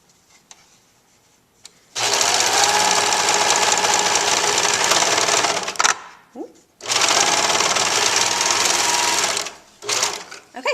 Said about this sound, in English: now we have both sides of that little pouch serged together